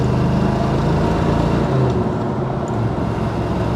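A 1966 Chevelle SS accelerating from inside the car, a continuous low engine drone with rising harmonic tones as it gathers speed, loud and close throughout.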